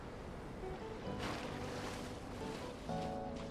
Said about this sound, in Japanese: この後はマップ東側、海を少しだけ泳ぎます。